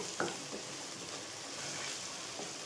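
Chopped onion sizzles softly in hot oil in a pan as it turns golden, a faint steady frying hiss with a couple of light stirring scrapes.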